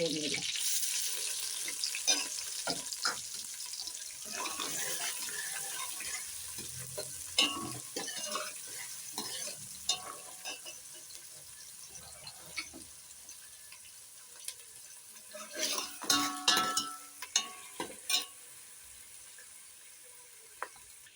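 Chopped onion frying with bay leaf in a pan, with a steady soft sizzle and scattered clinks and scrapes of stirring, growing busier near the end.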